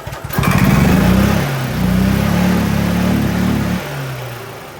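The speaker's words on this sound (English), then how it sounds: "when I press on the gas and the motor goes" A gas golf cart engine revs up hard as the throttle is pressed, holding a loud, steady drone for about three seconds, dipping briefly, then dropping back toward idle, heard up close with no talking.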